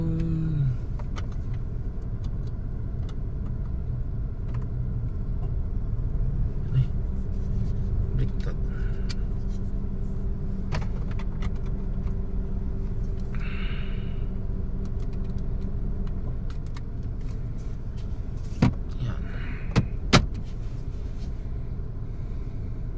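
Car in heavy traffic along a commercialized stretch from Fairlane Street to Meralco Avenue in Pasig City, a steady low engine and road rumble throughout with a few sharp clicks and knocks near the end, no talking.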